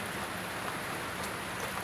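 Heavy rain comes down in a dense, continuous hiss, loud and even for the whole short stretch, with no voices and no breaks.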